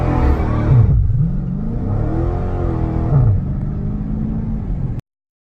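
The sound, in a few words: Dodge Challenger Scat Pack engine revving with line lock engaged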